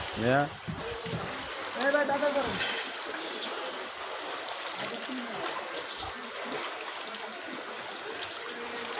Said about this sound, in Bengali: কি পানির স্রোত!